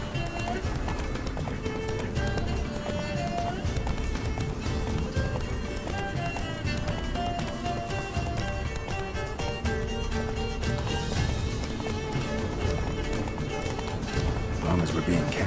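Roach the horse gallops in The Witcher 3, steady rhythmic hoofbeats pounding under a busy layer of music and game ambience, with voices talking over the running.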